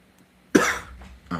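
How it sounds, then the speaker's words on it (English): A single harsh, close cough bursts out and then trails off, followed by a short rasping breath or throat sound, in an otherwise quiet indoor space. "I still have not gotten over this cough."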